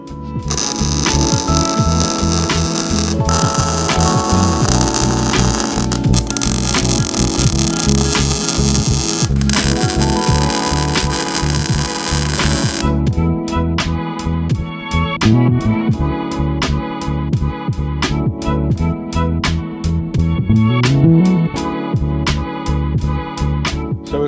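A welder tack welds a steel gas tank cradle for a Volkswagen Beetle–swapped Renault Dauphine, with a sustained crackling buzz of welding followed by a series of short, sharp sputtering bursts, close and loud.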